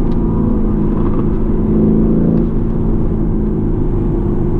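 A Lamborghini Urus accelerates from inside the cabin as its turbo kicks in, the engine a loud, steady, rising drone with a continuous low rumble throughout.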